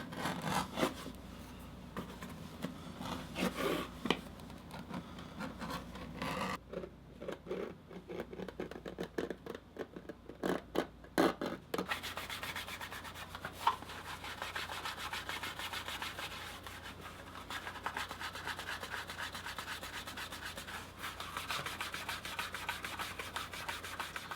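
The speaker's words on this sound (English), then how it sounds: "So I'm going to bevel and burnish before we flip it inside out." The edge of a leather wallet is bevelled and burnished, a steady close rubbing and scraping that goes on in long back-and-forth strokes, with a rhythmic stretch in the middle, and no talk.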